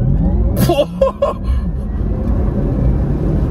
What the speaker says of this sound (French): Launch control. Ouais, ok. Pied sur le frein. Accélère. Voilà. J'y vais.